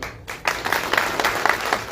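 An audience at a Maval journalists' association event gives a brief burst of applause welcoming its new president, a dense, moderately loud wash of many hands clapping together.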